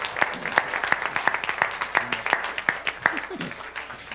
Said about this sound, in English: So I would like to invite everybody to please give a round of applause to Jeffrey.